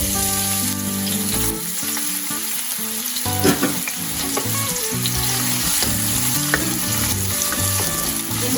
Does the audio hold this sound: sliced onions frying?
yes